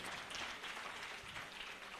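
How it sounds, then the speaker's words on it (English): Audience applause at a pharmacy society's scientific week gathering in Lagos, a steady, fairly faint wash of clapping from a crowd that carries on evenly for a couple of seconds. "A round of applause for her."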